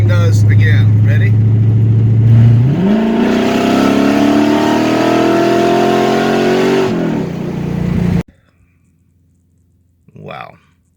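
A car engine on a 125-shot nitrous spray holds a loud, steady roar, then climbs sharply in pitch as it revs hard for several seconds before cutting off abruptly; a short voice follows in the near-silence.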